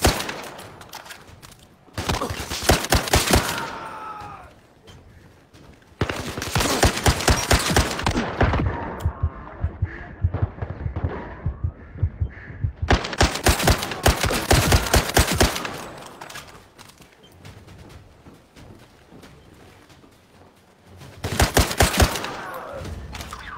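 Heavy M2 Browning machine gun firing in the shooter game Zero Caliber Reloaded, loud sustained bursts separated by short pauses, with other gunfire and battle noise underneath.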